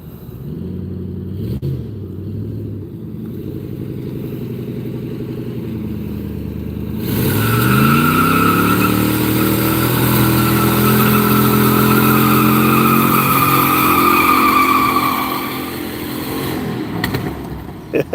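A car with a muffler and catalytic converter revs up after a low idle, a fairly steady rising engine drone that holds for about ten seconds before easing off, loud and close throughout.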